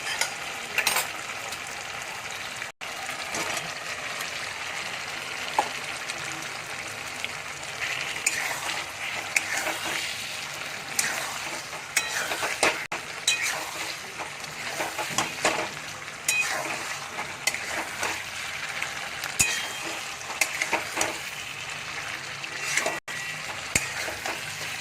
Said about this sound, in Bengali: আলুগুলো দিয়ে এটা একটু ফ্রাই হবে